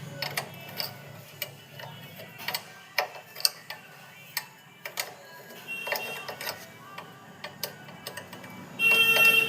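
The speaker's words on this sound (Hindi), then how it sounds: "इस सेंसर में इसको टाइट करने के लिए 14 नंबर का एक रिंच की ज़रूरत होगी, तो इससे हम टाइट कर लेंगे" A 14 mm wrench tightens a sensor on a Pulsar BS6 motorbike, giving a series of sharp, close metallic clicks and ticks at an irregular pace.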